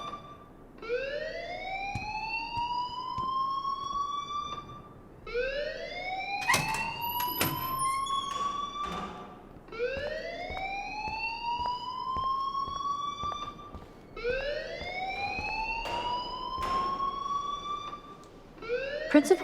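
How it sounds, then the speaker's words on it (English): School fire alarm in the video game Life is Strange, a loud electronic siren sweeping upward in repeated rising whoops about every four seconds, continuous and alone with faint background noise. "please turn off that alarm since that's your job"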